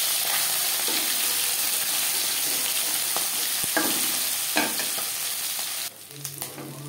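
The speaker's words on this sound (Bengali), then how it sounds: "মাছ আমি একটু কড়া করে ভাজলাম" Small tangra fish frying in hot oil, a steady close sizzle with occasional stirring scrapes, briefly quieter near the end as the pieces are turned.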